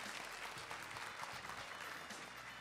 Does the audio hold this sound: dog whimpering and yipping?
no